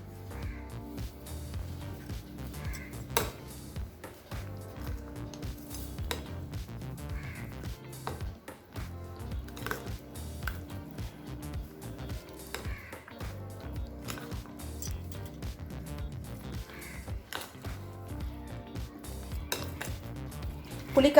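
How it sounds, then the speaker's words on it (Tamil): Rava idli batter mixed with curd is stirred in a bowl, a spoon scraping and clinking steadily against the sides in close, quiet, continuous strokes with no talking. "இப்போ இது நல்லா மிக்ஸ் பண்ணிடலாங்க."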